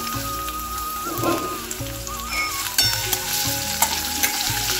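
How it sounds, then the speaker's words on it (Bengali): Garlic dropped into hot oil in a pan sizzles loudly and close, a dense crackling spatter with a few sharper pops and utensil knocks, no talking. "তেলেতে একটু রসুন দিয়ে দেবো"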